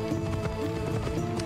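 Horse galloping in Assassin's Creed Odyssey, a steady rapid clip-clop of hooves over constant game ambience, fairly loud and continuous with no speech.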